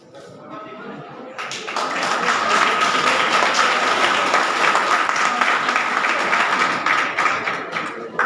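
Audience in a hall bursting into sustained applause after a shayari recital, clapping rising quickly and holding steady for several seconds before tapering slightly.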